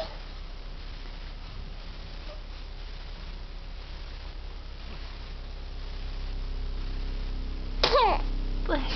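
A baby resting in a vibrating bouncer gives a single short, sharp sneeze near the end, after a stretch of quiet low humming from the bouncer.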